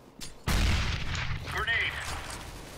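A grenade blast in the game CS:GO, one sudden heavy boom followed by a long rumbling decay, with a brief radio-style voice line in the tail.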